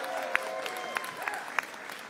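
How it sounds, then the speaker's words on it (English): Crowd applause after a mayoral race speech, a steady wash of clapping with a few sharper individual claps standing out, moderately loud, with some cheering voices mixed in. "Let's give her a round of applause,"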